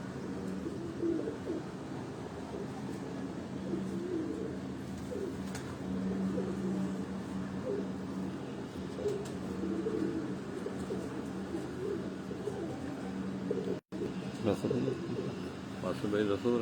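Soft rooftop pigeon cooing murmurs steadily in the background while people talk nearby, with low bird calls repeating throughout.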